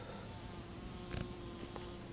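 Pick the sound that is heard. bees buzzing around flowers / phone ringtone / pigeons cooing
bees buzzing around flowers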